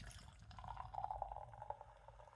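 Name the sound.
cider being poured from a can into a glass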